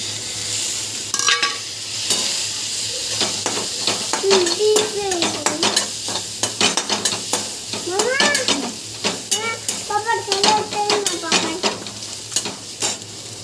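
Kurdai are stirred and sautéed in masala paste in a pan, giving a busy sizzle with repeated scraping stirs, while high wavering meow-like cries rise over the cooking.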